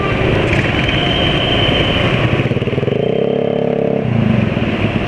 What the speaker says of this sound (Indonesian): ini depan ini contoh knalpot racing ya